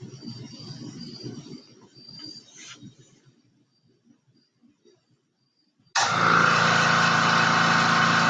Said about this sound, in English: what you hear in the background is the air compressor pushing air into the air bearing stages